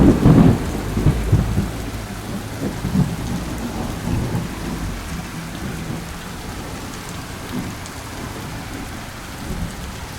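Heavy thunderstorm on the Adriatic coast of Albania: a loud thunder crack and rumble at the start, then steady driving rain with low rolling rumbles fading into a constant wash, no voices.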